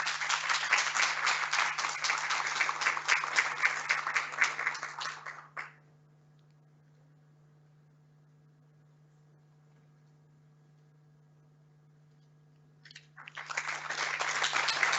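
A hall full of people claps at an award ceremony for thesis prizes, a loud dense burst that stops abruptly, leaving several seconds of near silence with a low hum before the clapping resumes just as strongly.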